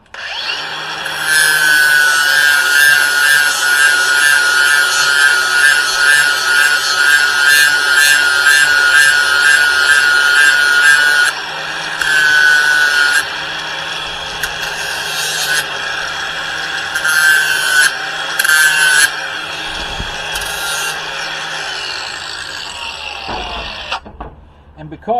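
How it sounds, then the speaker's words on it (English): A cordless Bauer grinder fitted with a flat disc grinds weld metal on a welded cross, giving a loud, continuous whine that runs for long stretches, breaks off briefly and starts again before stopping. "I'm going to grab my grinder here. I have a Bauer battery, cordless, whatever you want to call it, with a flat disc on it."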